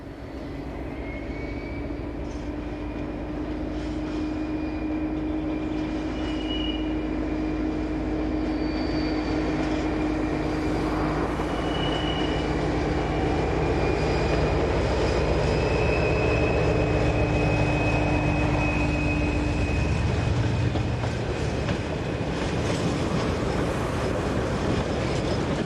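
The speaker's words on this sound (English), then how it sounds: "This freight has arrived from the south and has completed a full circle, enabling it to enter the yard's reception lines from the north end." A freight train rolls into a yard's reception lines from the north end, a steady loud rumble with sustained whining and squealing tones that runs unbroken throughout, with no voices.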